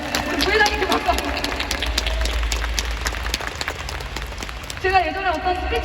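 Audience applause for a vice president at a leadership training meeting in Thailand, a sustained crowd of rapid claps, with a voice speaking at the start and again near the end.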